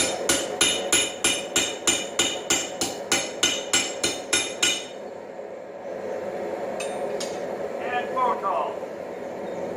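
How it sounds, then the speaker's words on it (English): A planishing hammer strikes hot steel while making tongs, a rapid, steady series of metallic blows, about fifteen even strikes in five seconds, then the pounding stops, leaving a low hum and faint clinks. "I'm going to get one more heat in with the planishing hammer"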